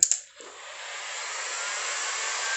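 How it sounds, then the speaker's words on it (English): Steady, even hiss-like blowing of a heat gun warming the dented metal of a Kawasaki Ninja motorcycle during a rebuild, starting with a brief click and rising to a constant close airflow that runs alone without talk. "with my heat gun, I'm going to just try heat up the metal around."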